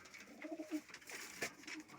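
Soft pigeon coos sound faintly among quiet outdoor background noise, a few low throaty calls in quick succession.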